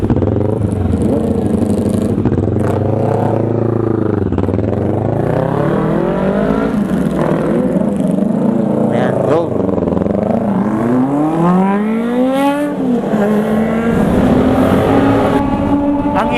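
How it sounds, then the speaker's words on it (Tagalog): Several sport motorcycles, among them a Sniper 155 VVA, ZX25R, N4, N650 and R3, rev loudly nearby, their engine pitch rising and falling in repeated sweeps while people talk and exclaim over the noise. "Ingay ng motor nila, grabe."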